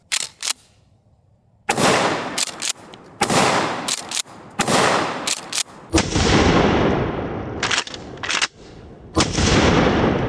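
A Mossberg 590 Shockwave 12 gauge shotgun fires a series of sharp, loud blasts outdoors, close by, in uneven clusters with short gaps and brief echoing tails between shots.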